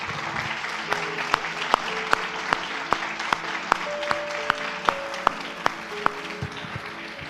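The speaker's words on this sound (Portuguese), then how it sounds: "Vamos aplaudir a Jesus?" Church congregation applauds during a Portuguese-language service, sustained clapping with sharp individual claps and a faint sustained tone underneath.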